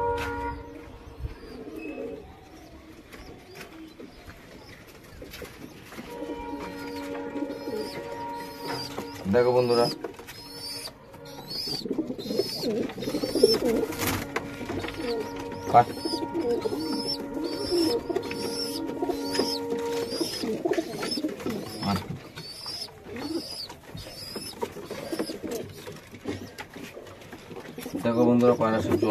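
Pet pigeons coo softly and steadily while drinking water. Their low, repeated calls continue throughout, with light rustling, and a person speaks intermittently over them.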